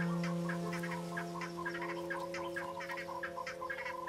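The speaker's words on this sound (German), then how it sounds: "Kräuselhauben-Perlhühner." Crested guineafowl call from the treetops in an African forest at dawn, a series of rhythmic clucking, chattering notes repeated steadily over a continuous tonal hum, moderately distant and fairly loud.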